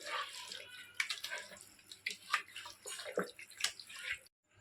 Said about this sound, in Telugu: ఇందులో అయితే కొన్ని వాటర్ అయితే పోస్తున్నాను